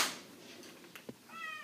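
A house cat gives a quick, soft sneeze up close, a brief breathy burst followed by a short meow-like chirp, with no talk over it.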